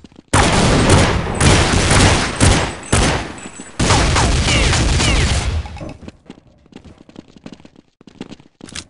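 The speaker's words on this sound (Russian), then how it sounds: "Кидаю гранату." Gunfire and explosive blasts from a grenade fight in Counter-Strike 1.6 play loud and dense for about five seconds, with bursts and booms crowding each other, then drop to scattered faint shots and clicks.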